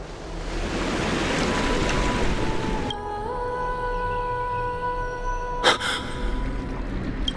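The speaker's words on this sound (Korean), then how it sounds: "물소리만 따라가면 돼." Waves of water wash steadily in Honkai: Star Rail, a continuous surf-like roar in the background, with a sustained musical tone layered on top and a brief sharp hit near the end.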